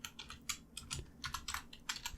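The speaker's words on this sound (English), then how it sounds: "Once you're done typing, press enter on your keyboard" Typing on a computer keyboard, a quick irregular run of close, crisp key clicks with brief pauses between bursts, quiet and alone.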